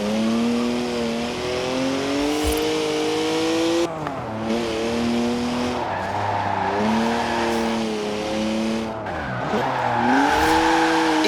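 BMW sports car in the Forza Horizon racing game, rear-wheel drive, with a loud engine revving through rising and falling gear sweeps and tires squealing as it drifts, continuous and close with no talk.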